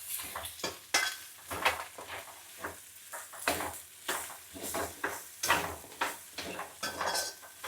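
A spoon stirs a garam masala mixture in a pot for Mughlai biryani, giving close, repeated clinks and scrapes against the metal in an uneven rhythm, with no talking.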